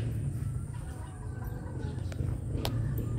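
A gamefowl stag, a young straight-combed rooster, clucks softly amid a steady low farmyard rumble, with a couple of brief sharp sounds near the end.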